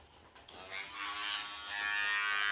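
An electric razor starts up after a brief quiet moment and then buzzes steadily and loudly close by while shaving a face, with no talking over it.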